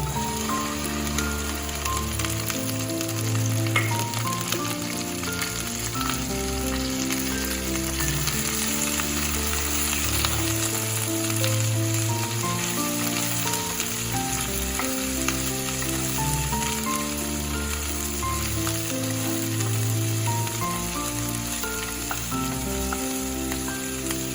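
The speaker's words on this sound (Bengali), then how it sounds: "এবারে আমি এই ঢ্যাঁড়সগুলো দিয়ে দিচ্ছি।" Okra frying in a pan for a mustard-poppy seed dish, a continuous dense sizzle and crackle heard close and steady throughout, with no talking.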